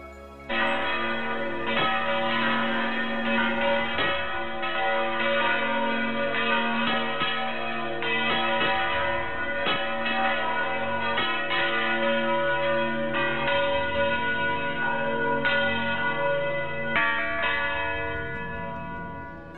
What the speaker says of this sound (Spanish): Esa misma noche echó a vuelo las campanas.